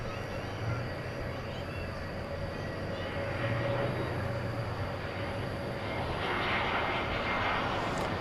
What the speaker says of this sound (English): American Flight 3239 to Phoenix is, well, it just took off.